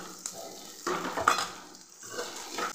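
Peanuts stirred in a pan for chutney, with a spoon scraping and clinking against the metal over a light sizzle, close by in short irregular strokes.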